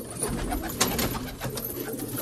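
Pigeons cooing nearby in a small group, soft throaty murmuring coos that overlap in a steady stream, with faint background noise and no speech.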